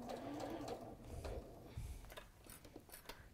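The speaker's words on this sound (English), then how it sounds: "So you just sew around." A sewing machine stitches around the curved edge of layered quilting fabric held with clips, a steady close mechanical whirr and needle chatter with brief pauses and restarts.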